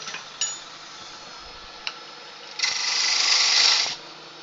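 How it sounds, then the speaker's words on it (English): A roughing gouge cuts wood on a lathe, a few light ticks and then a brighter, louder hissing scrape lasting over a second as the tool bites into the spinning workpiece, with a steady motor hum underneath. "I'll actually use the roughing gouge to get rid of some of that bulk now."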